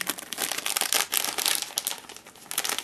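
A small plastic bag crinkles and rustles steadily up close as an Allen wrench packed with a hand gripper is taken out, a busy crackling texture with no talk.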